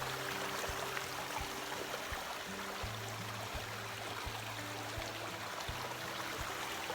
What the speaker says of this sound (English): Little river.